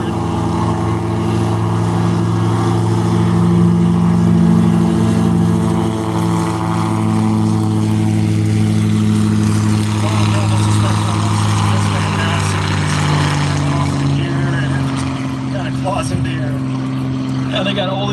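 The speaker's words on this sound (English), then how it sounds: "You can hear those Geo 480s really spool up." Geo 480 geared engines on a small aircraft spool up before takeoff, a loud steady drone with rising and falling tonal hum that holds throughout, with people talking over it.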